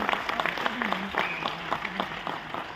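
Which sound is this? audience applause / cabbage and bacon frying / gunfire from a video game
audience applause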